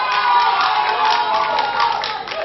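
Studio audience on a French-language Burkina Faso television set applauds and cheers steadily as a guest arrives, a dense continuous wash of clapping and crowd noise throughout.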